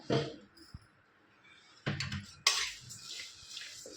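A metal spoon stirs and scrapes whole spices, cinnamon, rice and chana dal dry-roasting in a pan over low gas for village-style yesur masala, giving a few sharp clatters separated by quiet gaps.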